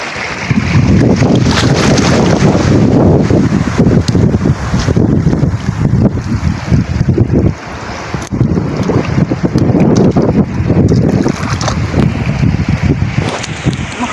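Strong, steady wind buffets the microphone on a small fishing boat at sea, a loud continuous low roar and rumble with gusty swells throughout and no talk.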